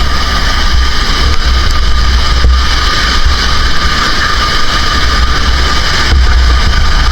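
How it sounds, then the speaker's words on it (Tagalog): Strong wind from Typhoon Uwan roars steadily, a loud dense rushing noise that barely lets up, with gusty low rumble underneath. "Lakas pa rin ng hangin"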